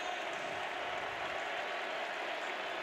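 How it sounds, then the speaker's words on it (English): A football stadium crowd at the Bengals–Colts AFC wildcard playoff game applauds Colts receiver Reggie Wayne in a steady, dense wash of clapping and cheering that holds constant throughout. "this crowd shows its appreciation for the 14-year veteran"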